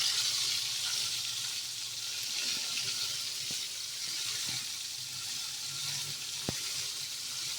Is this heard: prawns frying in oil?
yes